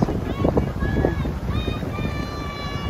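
Outdoor wind buffets the microphone in steady gusts near water, with voices and tonal chatter riding over the rushing noise.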